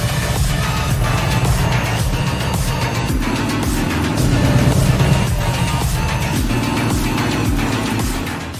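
A large Harley-Davidson motorcycle engine at a rider training session rumbles loudly and continuously, and the throttle swells its roar midway before it settles again.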